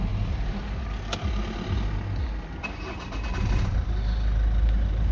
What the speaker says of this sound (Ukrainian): Зараз заведу, послухайте, як працює двигун.